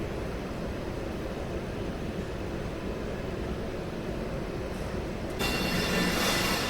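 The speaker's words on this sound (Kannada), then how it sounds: "ಟ್ರೈನ್ ಹೊರಟಿದೆ ನೋಡಿ" A train departs a station, a continuous rumbling rolling noise with a brighter, louder rise near the end, heard without talk.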